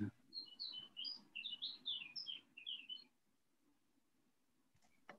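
Quick bursts of high, bright chirping from small birds over a low background hum, then the chirps stop and only faint room noise remains.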